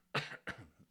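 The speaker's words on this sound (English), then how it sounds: "First, you need to cough." Two quick, close coughs in succession, the first sharper and louder than the second.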